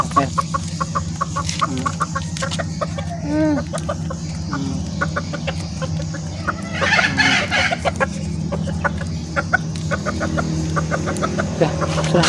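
Chickens clucking and a rooster calling in a yard as they are fed, steady overlapping clucks and squawks close by over constant background noise, with a few quieter human sounds mixed in.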